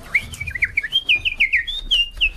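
A nightingale sings a quick series of clear, bright whistled chirps and trills, close and distinct, over a quiet low rumble.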